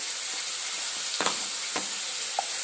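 Chicken and powdered spices frying together for chicken khichuri, a steady hiss of sizzling oil with a couple of soft stirring scrapes in the pan, no voices.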